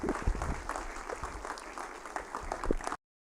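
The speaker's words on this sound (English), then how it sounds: "Let's give a huge round of applause to Ron West." A live audience applauds a speaker at an event, brisk dense clapping with a few louder nearby claps, running steadily before cutting off abruptly near the end.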